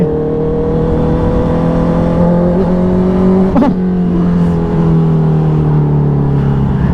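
A 2018 Honda CB650F with a 2.5-inch slip-on exhaust pulls hard in second gear, its engine note loud and close, rising steadily in pitch with a brief dip near the middle before climbing again.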